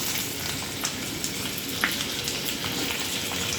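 Ginger, peppercorns, cumin and slit green chillies sizzle steadily in hot oil for moong dal pongal, a close, continuous crackling fry with small pops scattered through it and no talk.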